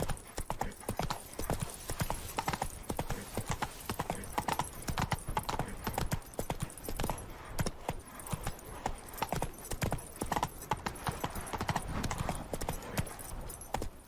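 Horse galloping in The Witcher 3, with quick rhythmic hoofbeats drumming continuously over the ground, close and fairly loud, with a brief whinny mixed in.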